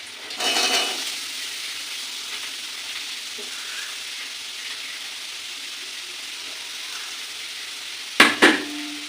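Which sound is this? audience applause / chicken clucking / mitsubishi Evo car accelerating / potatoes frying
potatoes frying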